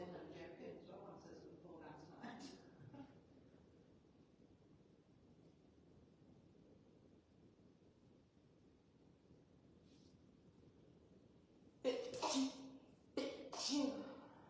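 Two sharp, loud sneezes burst out near the end, close to the microphone, after a stretch of quiet with brief voices at the start.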